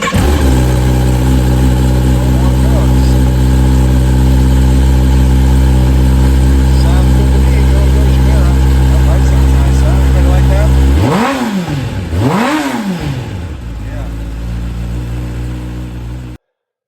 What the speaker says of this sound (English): We're going to turn on the bike